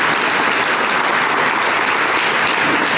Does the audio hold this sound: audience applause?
yes